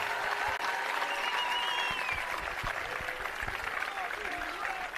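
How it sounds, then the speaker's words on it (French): An audience claps loudly for Candice Prévost at the closing ceremony of the International Youth Games in Athens, a sustained burst of applause with a few voices and whistles mixed in. "On applaudit très fort."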